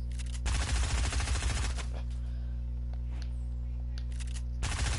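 Automatic gunfire in the video game Fortnite comes as two loud, close rapid-fire bursts, one long stretch near the start and another at the very end, with quieter game sounds between them.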